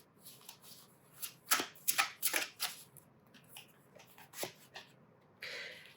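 Yes/no tarot cards are shuffled by hand in several quick riffling bursts with pauses between, close and fairly quiet, ending in a short soft rustle.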